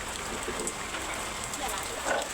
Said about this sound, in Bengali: দেখো ফাইনালি বৃষ্টিও পড়লো